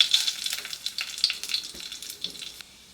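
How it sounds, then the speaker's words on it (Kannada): A bay leaf and cumin seeds crackle and sizzle in hot oil in a pan, a bright close hiss with small pops that fades toward the end, without any talking. "ಈಗ ಒಂದು ಪ್ಯಾನ್ಗೆ ನಾನು ಎಣ್ಣೆ ಹಾಕೋತಾ ಇದ್ದೀನಿ. ಈಗ ಇದಕ್ಕೆ 1 ಪಲಾವ್ ಎಲೆ, 1 ಸ್ಪೂನ್ ಜೀರಿಗೆ ಹಾಕೋತಾ ಇದ್ದೀನಿ"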